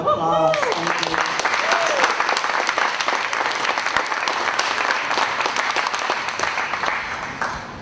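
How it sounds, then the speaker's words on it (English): An audience at a spoken word and performance event applauds loudly, dense clapping that swells right after a voice speaks and then slowly fades over several seconds. "Give them another round of applause."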